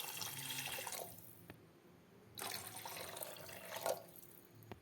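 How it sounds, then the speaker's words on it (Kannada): Water pours from a tap into a cooking pot in two or three short bursts, gently splashing and trickling, separated by near silence. "ಈಗ ನಾವು ನೀರು ಹಾಕಿಕೊಳ್ಳುವ."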